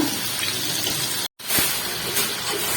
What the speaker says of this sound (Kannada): ಚೆನ್ನಾಗಿ ಬೇಯಬೇಕು ಎಣ್ಣೆ ಒಳಗೆ